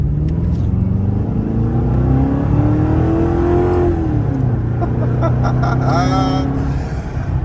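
A 2004 Mercury Grand Marquis V8 sedan with a Magnaflow stainless steel cat-back exhaust revs up and down nearby, a deep throaty exhaust rumble rising in pitch then settling, loud and close.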